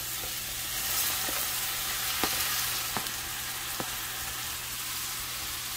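Chile and tomato sizzle steadily in a hot frying pan for a salsa, a dense close hiss with a few sharp pops and crackles spaced through it and no talking.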